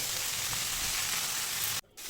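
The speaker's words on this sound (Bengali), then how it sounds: "এবার সজনে পাতাগুলোকে দু থেকে তিন মিনিট একটু নাড়াচাড়া করে নেব" Drumstick leaves frying and being stirred in a pan give off a loud, steady hiss of sizzling that stops abruptly near the end.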